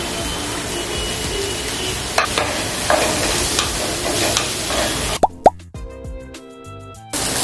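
Garlic and ginger hit hot oil in a pan for a prawn ghee coconut roast, a loud steady sizzle and crackle with a few plopping drops, then cutting to quieter stirring sounds near the end.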